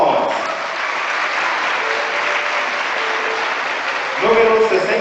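Steady applause from a group fills the room, then a voice starts speaking as the clapping fades.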